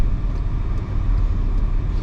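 Car driving through Birmingham city streets, heard from inside as a steady low engine and road rumble with slight fluctuations, loud and close, with no voices.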